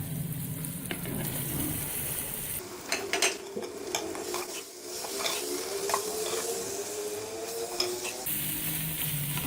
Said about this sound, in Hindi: अब मैं इसमें कीमा डालने लगी।